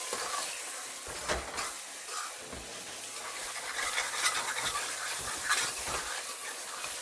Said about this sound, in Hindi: अब देखिएगा मैं इसमें राजमा डालूंगी